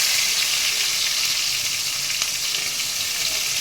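Green chillies, raw onion and nigella seeds fry in leftover fish-frying oil, making a loud, continuous, close-up sizzle and crackle with no talking.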